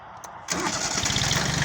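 On a strawberry farm, a vehicle engine cranks after a brief near-silence, catches and settles into a steady, loud, close running rumble.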